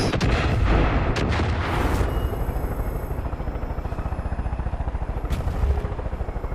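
A silo explodes in Far Cry 5 with a loud booming blast and crackling burst, followed by a sustained rumbling roar that pulses steadily as it fades.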